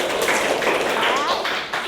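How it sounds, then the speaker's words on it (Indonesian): Classroom applause for a student, a short burst of dense, continuous clapping from many pupils at close range, with voices mixed in. "Tepuk tangan untuk Iqbal."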